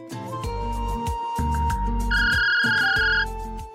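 A phone ringtone plays a repeating melodic pattern, loud and near, ringing continuously with a brief higher tone partway through.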